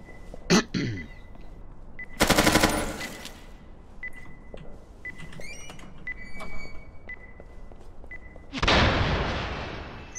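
Gunfire in a tactical multiplayer shooter, Due Process: several sharp, loud shots and short bursts ring out at intervals, with quieter clicks and handling noise between them and no talk.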